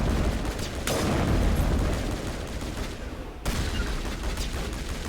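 Heavy rifle fire during a Mass Effect firefight, sustained loud rattling bursts with booming impacts, a brief lull, then another burst of shots starting abruptly.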